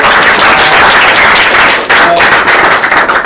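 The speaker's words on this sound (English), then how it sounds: "So let's give those guys a round of applause." Staff meeting attendees clap together in a short, loud burst of applause, with a brief dip partway through before the clapping picks back up.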